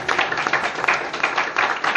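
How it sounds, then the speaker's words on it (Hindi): An audience at a motivational seminar claps together on cue, a close burst of fast, fairly even hand claps lasting a couple of seconds. "बजाओ ताली एक बार"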